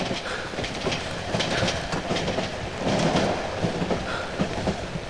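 In the horror video game Cry of Fear, a train runs along its rails with a continuous rumbling roll and rhythmic clickety-clack of wheels over track joints, steady and fairly loud, with no speech.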